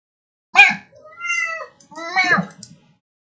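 A pet cat named Moo Moo meows three times close by, one short sharp call followed by two longer drawn-out wavering meows, alone in a quiet room.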